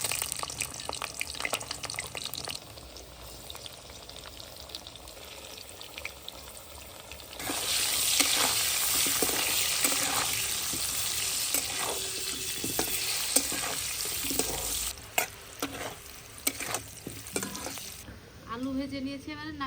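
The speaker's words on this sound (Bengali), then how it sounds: "আলুটা ভালো করে ভেজে নেব।" Potatoes fry in oil, producing a continuous sizzle that grows louder and more intense partway through, with stirring and spatter, close and moderately loud.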